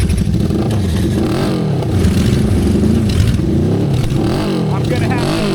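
A supercharged wheelbarrow and a 550cc Little Tikes car rev and accelerate side by side in a drag race, loud, continuous engine roar with rising and falling pitch sweeps and some clatter throughout.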